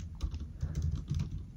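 Brief burst of keystrokes on a computer keyboard, typing a code snippet in a tutorial setting, close and soft with no voice over it.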